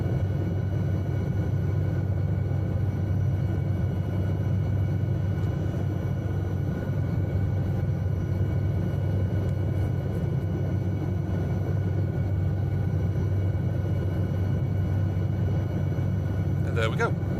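A steady low rumbling drone of an SA315B Lama helicopter engine during a pad takeoff in Microsoft Flight Simulator 2020, constant and unbroken, with a faint brief click near the end.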